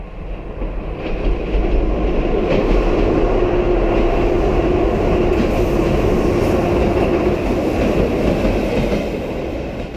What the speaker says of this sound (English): as the train was approaching